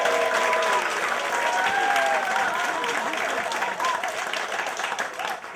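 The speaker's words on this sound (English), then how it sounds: "Let's hear a round of applause for that." A large crowd gives loud, sustained applause at an outdoor anniversary meet, with dense overlapping clapping and some voices and cheers mixed in, easing slightly toward the end.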